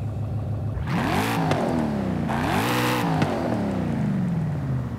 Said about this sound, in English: the sound of the car is louder